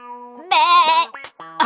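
A French-dubbed cartoon character, Little Miss Daredevil from The Mr. Men Show, bleats like a goat in a wavering, tremulous voice imitating the animal, a few short loud bleats close up.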